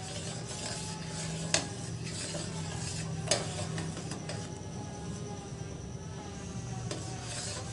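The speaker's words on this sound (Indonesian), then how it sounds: "Ini agar-agarnya sudah hampir mendidih, terus kita aduk" A spoon stirs agar-agar that is nearly boiling in a pot, making a steady scraping and swishing over a constant bubbling hiss. There are a couple of sharp clinks against the pot, and no voices.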